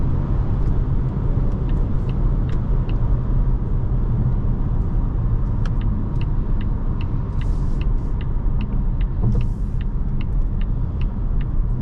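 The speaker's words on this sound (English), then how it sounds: "it's a very quiet cabin" Inside a 2024 Volvo S60 Recharge on the move, a low steady road rumble fills the cabin, with faint ticking and clicking sounds scattered over it.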